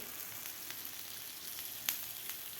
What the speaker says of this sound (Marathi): राहिलेली बाजूसुद्धा खालून व्यवस्थित असा ब्राऊन कलर होईपर्यंत आपल्याला हे ब्रेड शेकून घ्यायचं आहे